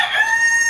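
A rooster on a poultry farm crows loudly and close by, one sustained cock-a-doodle-doo that fills the whole short moment with no other sound around it.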